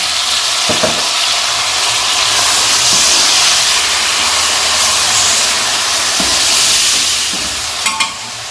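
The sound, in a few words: tomatoes added to sizzling garlic and ginger in pan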